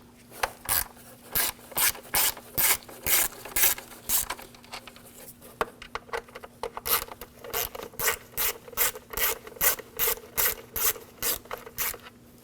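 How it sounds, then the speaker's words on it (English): Rapid rhythmic ratchet clicking in repeated bursts as a ratchet with a 5mm hex socket backs out cover screws on a 2007-2013 BMW 328i 3.0L L6, close and fairly quiet, with a brief pause midway. "we're going to take these screws out for the cover"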